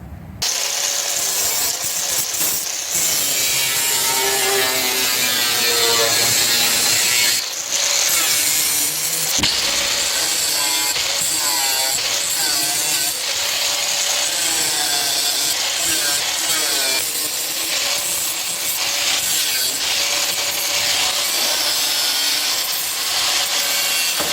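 Metal parts being cut for a garden tractor build, a loud continuous rasping, sawing grind held steady for over twenty seconds with brief pauses near the start and middle, no voices.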